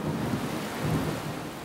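Steady heavy rain with low rolling thunder, a dense continuous wash of sound throughout, no voices.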